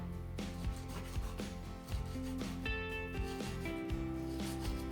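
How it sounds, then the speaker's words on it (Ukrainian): A knife saws through the small bones of a crucian carp being prepared for frying, making close, rhythmic scraping strokes that repeat steadily. "І зараз так само не до кінця доріжу з другої сторони."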